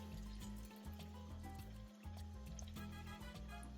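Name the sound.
pouring stock water into a pot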